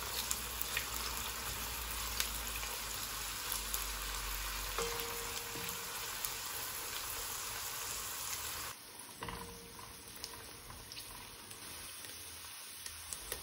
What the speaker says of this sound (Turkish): Biraz da havuçlarla birlikte kavuralım.